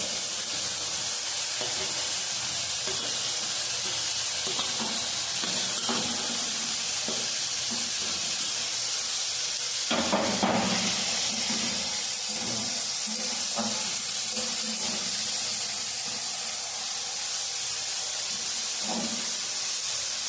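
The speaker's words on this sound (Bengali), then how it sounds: "ক্যাপসিকাম আর গাজরটা ভাজা মোটামুটি হয়ে গেছে, এবার আমি মটরশুঁটি দিয়ে দেবো" Capsicum and carrot frying in a pan for veg dal, a steady loud sizzle and hiss that runs throughout, with brief stirring clatters partway through.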